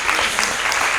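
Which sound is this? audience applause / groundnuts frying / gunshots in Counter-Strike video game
audience applause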